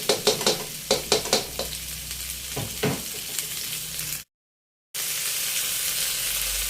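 Mixed vegetables sizzle and crackle in a hot pan for a stir-fry, with a few sharp stirring clatters early on, then a steady close frying hiss that cuts out briefly and returns.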